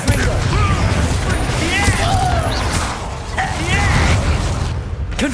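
Confringo blasting spells in Hogwarts Legacy burst in repeated booming pops amid chaotic combat effects and whooshes. A voice talks over the fight.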